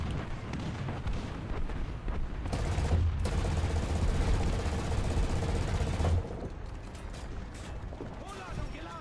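Shot fired at the player's vehicle in War Thunder, a loud burst of heavy gunfire and booming impacts amid rumbling battle noise, with some talk in the background.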